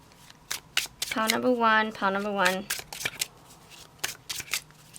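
Oracle cards are shuffled by hand in rapid, crisp riffling bursts throughout, while someone speaks briefly in the middle.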